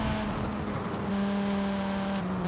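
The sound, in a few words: five-cylinder car engine in video game Forza Horizon 5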